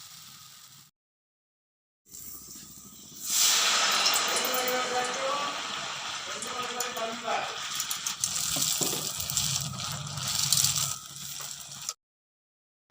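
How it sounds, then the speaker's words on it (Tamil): Kokis batter fries in hot oil in a home kitchen, a steady bubbling sizzle rising after a brief silence and continuing for several seconds, with someone speaking over it. "இதே மாதிரி கொக்கீஸ் எல்லாத்தையும் பொரிச்சு எடுக்க தான் இருக்கி."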